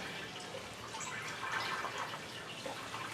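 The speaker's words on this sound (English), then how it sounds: "I'm pouring hot water over top of the grain bed, kind of giving it a stir" Hot water is poured over a bed of oat grain during sparging for an oat whiskey mash, giving a steady, faint splashing and trickling with scattered drips and no voices.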